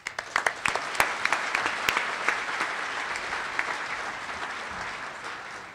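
An audience at the 2016 MPAC Media Awards gives a dense round of applause with a few sharp claps standing out early on. The sound is loud and sustained and gradually thins toward the end, with no voices over it.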